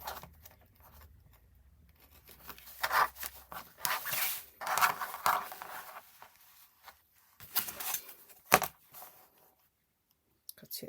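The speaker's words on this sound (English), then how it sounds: "Cut it along the edge, just line up your ruler and cut." A craft blade is drawn along a ruler to cut fabric strips for bunting, giving several short, close scraping strokes separated by quiet pauses, with no talking.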